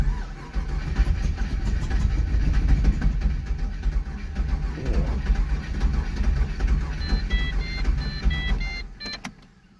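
An LS1 V8 car engine runs with a loud, rough low rumble throughout, close by, fading at the end amid a few faint high electronic beeps.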